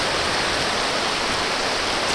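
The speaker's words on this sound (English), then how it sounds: "this is a pretty big river" Broad steady wash of a big river flowing on a hiking trail in Big South Fork National River country, a continuous loud rushing roar close by with no pauses and no voices.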